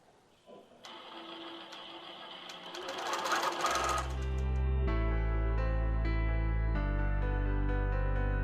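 Computerized quilting sewing machine stitching a fall table runner, starting with clicks and whirring, then ramping into a loud, steady mechanical hum with a rhythmic needle drone, close up and without talk.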